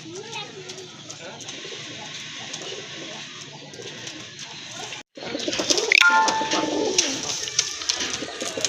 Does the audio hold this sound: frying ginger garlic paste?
no